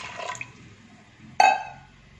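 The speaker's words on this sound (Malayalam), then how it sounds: "മീതെ വെള്ളം വരുന്ന വിധത്തിൽ വെള്ളം ഒഴിച്ച് കൊടുക്കാം." Water is poured into a pressure cooker holding lentils with turmeric and salt for an Onam sadhya dal. A faint trickle is followed by one short, sharp splash, close by and alone.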